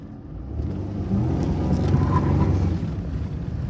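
A 1998 Pontiac Grand Prix GTP accelerates on the road, its engine a loud, steady rumbling drone that swells partway through and holds, heard from close by with no talk.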